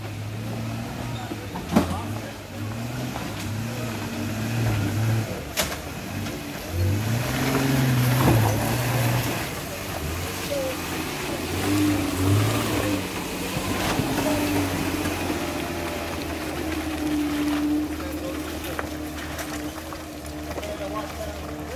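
An off-road vehicle with both lockers engaged grinds up a slick hill on a trail, its engine droning low and steady with rising and falling revs throughout, while a person talks over it.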